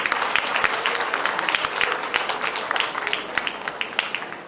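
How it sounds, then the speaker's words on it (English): An audience at a college fest debate competition applauds the finalists, a steady dense clapping of many hands with sharper individual claps standing out, sustained at moderate loudness throughout. "I think they definitely deserve a huge round of applause for making it to the world."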